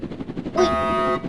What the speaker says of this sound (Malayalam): എന്ത് വെടിയപ്പ്